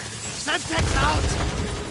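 A Semtex grenade explodes in Call of Duty: Modern Warfare 3 on the Shipment map, a short, rough blast that is muddied by game noise and voices talking over it.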